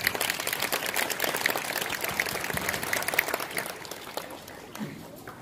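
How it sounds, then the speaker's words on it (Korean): An audience at a Korean community commemoration of the March 1st Movement centennial in Reedley claps for an incoming speaker, continuous moderate applause that thins toward the end. "박수로 맞이해 주시기 바랍니다."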